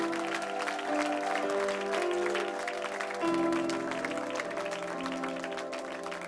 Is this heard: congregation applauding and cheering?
yes